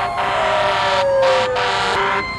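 A fire engine's siren wails loudly and close by in the town of Grafton. The tone slides steadily downward while a pulsing horn-like layer cuts in and out in short bursts.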